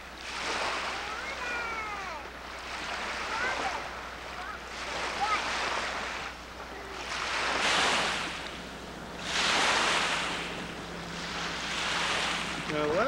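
Small waves from a rain-swollen pond at Sebago, Maine wash steadily onto a beach, a rolling surf-like swish with gusty wind buffeting the microphone throughout.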